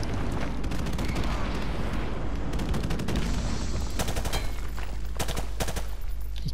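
Rapid gunfire in Call of Duty: Modern Warfare rattles in dense bursts and sharp single cracks, loud and continuous throughout, with heavier shots clustered toward the end.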